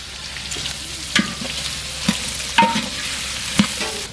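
Mustard seeds, curry leaves and onion fry in hot oil for sambar, a steady close sizzle broken by several sharp stirring scrapes and knocks of a spoon against the pan.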